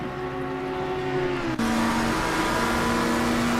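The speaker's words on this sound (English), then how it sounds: "McLaren's definitely got a lot of top speed, and he puts it to full use there and just breezes past" A McLaren race car in a Pan Am racing sim at a 24-hour Barcelona race roars at full throttle with a steady, loud engine drone, broken by a brief dip like a gearshift midway before pulling on strongly.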